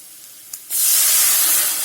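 Sambar hits a hot tempering of fennel and fenugreek, bursting into a loud, sustained sizzling hiss after a faint quiet moment, close and unbroken.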